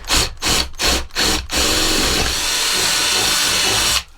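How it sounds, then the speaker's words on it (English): A power drill bores through a wall of an off-grid powerhouse, first in four short revving bursts, then in one long continuous grinding run that stops abruptly, close and loud with no talking. "I'm about to drill this through there"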